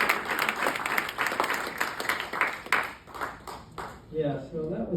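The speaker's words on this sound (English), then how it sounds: "You're supposed to applaud now." Audience applause at a book presentation in a New York studio, a dense burst of many hands clapping that thins and fades toward the end as a voice begins to speak.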